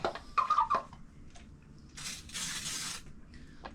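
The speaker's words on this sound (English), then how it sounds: "We'll spray everything down again real quick." A few soft clicks and taps, then two close hissing bursts from a spray bottle spraying water onto aquarium rocks, the second longer and steady.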